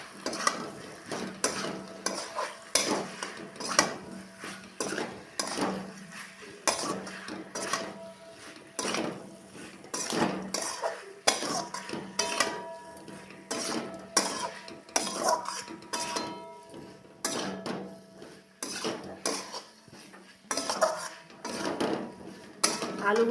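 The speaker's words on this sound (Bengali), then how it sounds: "তখন আমি দিয়ে দিচ্ছি ভেজে রাখা আলুগুলো" Fried potatoes for aloo dum tipped into a pan of cooked-down spices and stirred, with repeated scraping and clanking of a spatula against the pan over a soft sizzle, close and irregular throughout.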